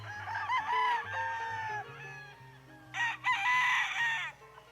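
A gamecock rooster crows loudly and close, a long wavering call, followed by a second, higher and harsher crow after a short pause.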